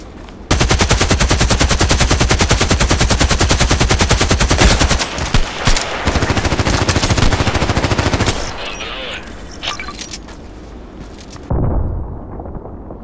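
Sustained AK-12 assault rifle fire in the shooter game Contract Wars, a dense rapid stream of close, loud automatic bursts for about eight seconds, then scattered shots and game noise as the firing breaks off and resumes briefly.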